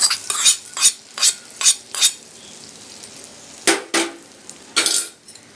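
Mango pickle being mixed with masala by hand or spoon, giving a series of short scraping, clinking stirs in bursts with pauses, fairly close and moderately loud.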